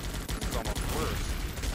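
Rapid gunfire from soldiers in the video game Guns Up!, a dense stream of overlapping shots and bursts that keeps going loudly through the whole moment, with some speech-like sound mixed in.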